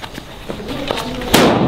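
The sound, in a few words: Diwali firecracker bursting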